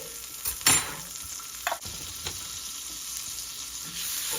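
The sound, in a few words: garlic frying in a pan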